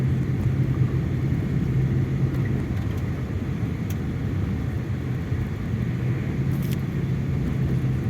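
A car driving along a frozen road in Yakutsk, its steady low engine and tyre rumble continuous and close throughout, with no voices.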